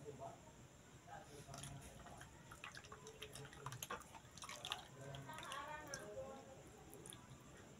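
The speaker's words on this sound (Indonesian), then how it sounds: "Pertama kali kita tuang yang warna merah stroberi." Red strawberry-colored batter for kue talam is poured into a greased pan, making a soft, close trickle with faint drips and squishy splashes that run steadily for several seconds.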